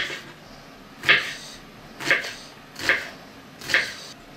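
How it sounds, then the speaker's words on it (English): Knife chopping an onion into chunky pieces on a cutting board for a camp meal, four distinct, evenly spaced cuts landing about a second apart, close and fairly crisp over a quiet background. "Cut up a little onion here."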